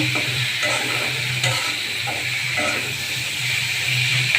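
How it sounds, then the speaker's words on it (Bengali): Pieces of carp fry with spices in a pan, making a continuous hissing sizzle with occasional soft stirring scrapes and a low rumble underneath, with no talking. "মশলার সাথে এটা ভাজা ভাজা হচ্ছে"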